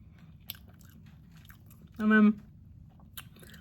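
A single crunchy bite into a protein powder donut topped with powdered sugar, followed by soft chewing, close and clear against a quiet background.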